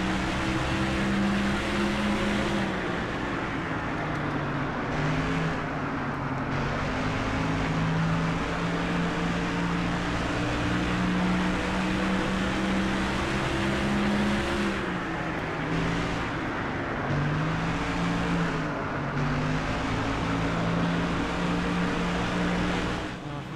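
Race car engines roar in NASCAR Thunder 2004 at North Carolina, a loud continuous drone with pitch rising and falling as cars run in a tight pack.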